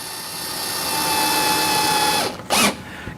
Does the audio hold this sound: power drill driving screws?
yes